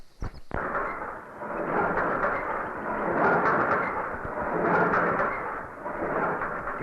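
In a scene from the Malayalam film Pilots, a helicopter arrives over a village with a heavy swelling rumble that builds and rolls on, preceded by a couple of sharp thuds.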